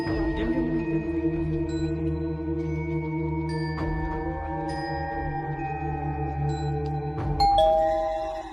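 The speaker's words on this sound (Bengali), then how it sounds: "কিরে, এখন কলিং বেল দিল কে?" An electronic doorbell chimes near and clearly, with sustained ringing tones that hang and overlap, then a fresh chime strikes near the end.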